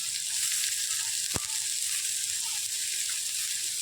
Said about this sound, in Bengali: আলুটা এবার একটু নাড়াচাড়া করে নেব।